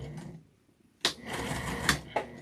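A sewing machine back stitching the side seam of a tote bag, with short bursts of mechanical whirring and clicking that start and stop after a quiet pause, close and fairly clear.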